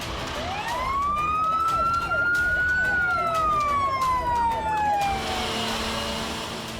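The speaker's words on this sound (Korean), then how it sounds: "한꺼번에 시동을 걸고 사이렌도 울립니다" Emergency vehicles at a Korean military unit start up together for a nighttime equipment check, and a loud siren wails in a long rising and falling sweep over engine rumble and overlapping siren tones before cutting off.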